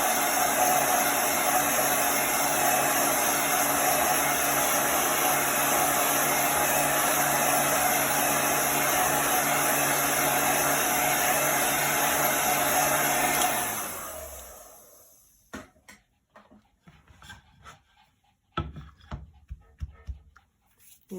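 A dryer blows steadily and loudly onto chalk paste on gingerbread tree cutouts for about fourteen seconds, then switches off, leaving faint handling noises and small clicks.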